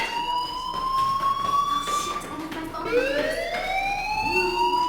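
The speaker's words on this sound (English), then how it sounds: "do you hear that fire alarm? That means you should be outside." Fire alarm wailing through a building in the game Life is Strange, a loud, continuous electronic siren with rising and falling sweeping tones that repeat without a break for the whole stretch, heard alone.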